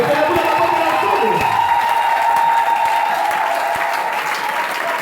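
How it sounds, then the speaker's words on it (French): A church congregation at a revival meeting in Loudima applauds and cheers to acclaim the Lord, with loud, dense clapping and crowd noise sustained throughout. "Est-ce qu'on peut acclamer le Seigneur?"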